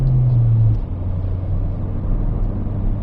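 Ford Fiesta ST180 engine on a rev-matched downshift, a short throttle blip rising briefly in the first moment, then settling into a steady low engine drone and road rumble from inside the car.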